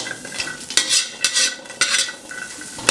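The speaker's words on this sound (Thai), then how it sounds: "ก็หอมแดงกับกระเทียมลงไปคั่วสักครู่หนึ่งก่อนนะ" Shallots and garlic stir-fried in a pan for a Thai fermented fish chili dip, with a spatula scraping and clacking in several loud, close strokes over a light sizzle.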